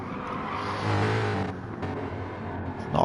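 A Mustang race car in a racing video game at a Nürburgring endurance series round, its engine a continuous droning roar that swells for a moment, dips, then surges again at the end.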